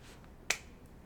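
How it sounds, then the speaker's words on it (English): A single sharp hand clap rings out once in a quiet room during an interview, a lone crisp transient with a short decay and no talking. "I'm just going to have you clap your hands"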